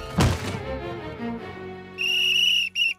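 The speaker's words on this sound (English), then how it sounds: "Is that the come back and kick me whistle?" A sharp, high whistle rings out twice near the end, following a brief thud and some low murmuring tones.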